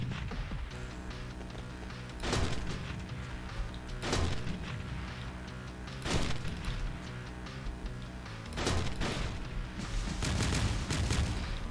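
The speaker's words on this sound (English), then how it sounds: "This guy shoots missiles." An enemy fires missiles in the 2013 top-down shooter Teleglitch: Die More Edition. Loud, sharp blasts hit roughly every two seconds over a steady rumbling game soundtrack, with no talking.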